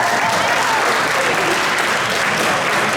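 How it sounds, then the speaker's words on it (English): Steady, dense applause from an audience at a spring school athletic awards ceremony, loud and sustained throughout without a break. "How about a round of applause?"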